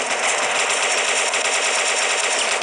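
Sustained, rapid automatic machine-gun fire in a World War 2 team deathmatch video game, a loud, dense continuous rattle with no pause, heard alone.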